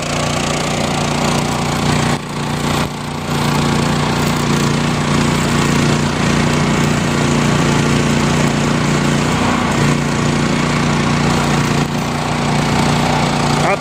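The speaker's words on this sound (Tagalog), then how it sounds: "At napaka-ingay lang po dito. Ito po ang ating generator." A generator runs at a construction site to power welding, giving a loud, steady engine drone that barely changes across the whole stretch, heard up close with no speech over it.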